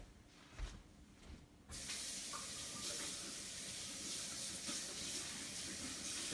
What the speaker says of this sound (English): rinsing the lid real quick